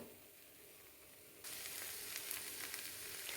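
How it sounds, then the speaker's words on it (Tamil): Gentle sizzling of green gram (pesarattu) dosa batter frying in oil on a hot pan over medium flame, turning louder and brighter partway through as more oil is poured around it; no talking. "இப்போ சுற்றிலும் எண்ணெய் ஊற்றி கொஞ்சம் ஃப்ளேமு மீடியம் ஃப்ளேமில் வச்சுக்கலாம் நல்லா வேகட்டும்"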